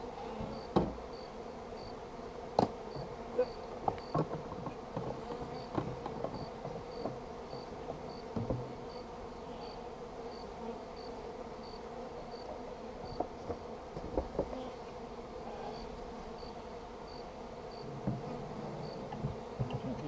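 Honey bees being hived in April give off a faint, steady buzzing hum with scattered light clicks and taps, with no talking.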